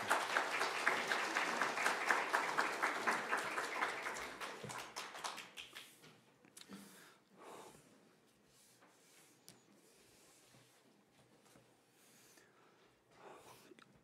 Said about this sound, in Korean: 우리 목사님 나오실 때 우리 박수로 환영하겠습니다